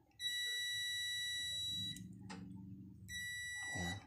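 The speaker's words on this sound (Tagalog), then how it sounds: "Natin sa tester buzzer check guys tignan tayo sa buzzer" A continuity tester's buzzer emits steady high electronic beeps while an ignition burner's connections are checked, one long tone then a pause and a second tone, with low handling noise underneath.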